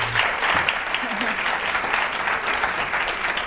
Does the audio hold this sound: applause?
yes